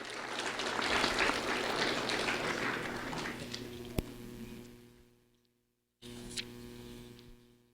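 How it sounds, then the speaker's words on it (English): Audience applause for Boden Ballinger, a 4th grade student honored by the Sheriff's Office at a recognition event, steady broadband clapping over a low mains hum that fades out near the end, then resumes briefly. "A round of applause for Boden Ballinger"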